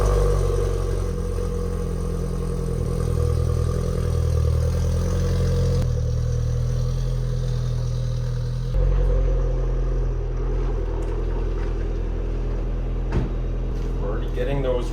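An Audi A4 with newly replaced pads, rotors and stainless brake lines driving off, a steady mid-pitched engine hum and road noise, close and constant, with a shift in tone partway through and a few faint clicks.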